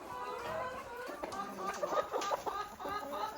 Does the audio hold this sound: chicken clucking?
yes